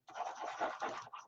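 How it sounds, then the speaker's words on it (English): Paper is burnished by hand while a mini album is assembled, giving a brief, faint close scratching rub lasting about a second. "I'm going to burnish that in, turn it, and continue to add"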